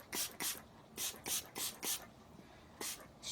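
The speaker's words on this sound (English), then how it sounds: "I'm going to spray it again." Cotton sublimation fluid sprayed from a trigger bottle onto fabric: about nine short, bright hissing bursts in quick, slightly uneven succession, close and fairly quiet, with brief pauses between pumps.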